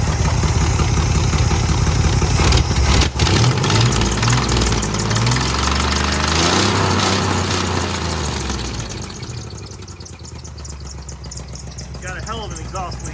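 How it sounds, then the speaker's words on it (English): A 1981 K10 Stepside truck engine idles with an exhaust leak, giving a steady loud rumble with ticking pulses up close that eases slightly toward the end, while a person talks over it. "Got a hell of an exhaust leak right there."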